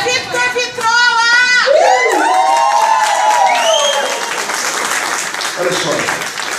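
A lively crowd at a party celebrating music breaks into applause and cheering, with whoops and shouts rising over steady clapping, and voices calling out over the noise throughout.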